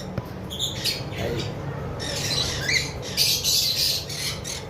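Cockatiel in a cage on a balcony giving several shrill, harsh squawks in quick bursts, fairly close, over a steady background hiss.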